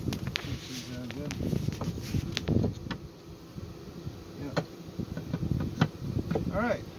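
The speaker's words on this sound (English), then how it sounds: "We got the bees in. You can see them buzzing." Honeybees in a newly set up hive hum and buzz in a continuous drone, close by, under intermittent talking from people working at the hive.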